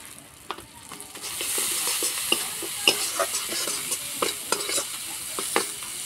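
Ghee sizzles with fried spices in a pan for a pumpkin kofta curry: a loud, bright hiss swells after a second and holds, broken by repeated scraping stirs.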